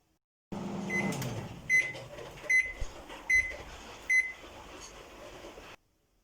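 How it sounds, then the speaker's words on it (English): Five short electronic beeps from a microwave oven, evenly spaced about a second apart, over a low background hum. "And our microwave, when it's finished, makes a sound like this"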